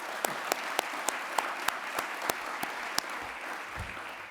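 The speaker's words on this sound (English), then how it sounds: "Round of applause for them." An audience at a science competition awards ceremony claps, a soft, steady patter of many hands with a few sharper individual claps standing out, moderately distant and without talk.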